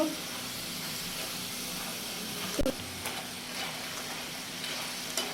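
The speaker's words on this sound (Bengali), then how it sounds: "এই যে আমি এখন ফ্রেঞ্চ ফ্রাইগুলো আর একটু নেড়ে দিব ভালো করে মচমুচে হওয়ার জন্য।" Egg French fries frying in oil and being stirred with a fork, a steady quiet sizzle and hiss with a brief clatter of the fork partway through.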